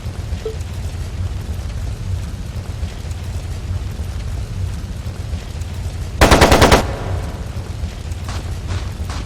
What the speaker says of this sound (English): It sounded like a machine gun.